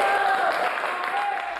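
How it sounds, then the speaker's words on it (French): An audience applauds a speaker in a dense, steady patter of clapping that fills the moment, with a voice audible over it. "Son auditoire applaudit,"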